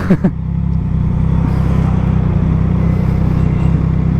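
A Triumph Trident 660 motorcycle rides through traffic in San Fernando, La Union, its steady engine drone and road rumble loud and close throughout, with a couple of brief sharper blips at the very start.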